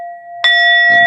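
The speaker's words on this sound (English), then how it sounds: "Ring the bell." A single bell strikes with a bright ringing tone that hangs and sustains, sounding close and clear over an earlier fading tone, with no talk alongside.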